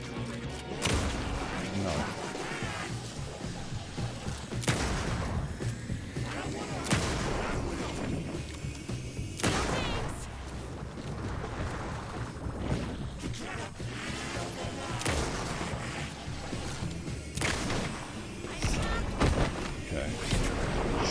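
Gunfire aimed at a bike in the video game Alan Wake 2, with loud repeated booming shots and crashes over a dense game soundscape while a person talks.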